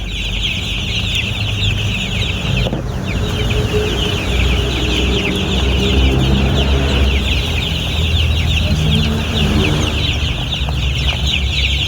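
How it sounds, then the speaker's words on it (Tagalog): A large flock of 45-day-old chicks on a farm fills the air with continuous dense, high-pitched peeping and clucking, loud and close, with no talk over it. "yung mga sisiw na 45 days, ang lalaki na oh"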